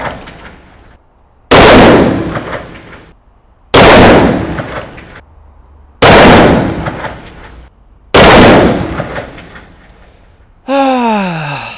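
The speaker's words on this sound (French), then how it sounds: "J'aurais tiré au Desert Eagle en 50 AE, c'est quand même mythique." Four loud, close Desert Eagle .50 AE pistol shots, each a sharp blast that decays over a second or so, spaced about two seconds apart, followed by a short whistling tone at the end.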